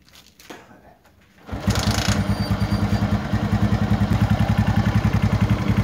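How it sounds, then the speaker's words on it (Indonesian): A motorcycle with a half-wave regulator rectifier sits quiet through a few soft clicks, then its engine fires and settles into a loud, close, rapid and even putter that keeps running. "Sekarang kita coba nyalakan dulu mesinnya ini."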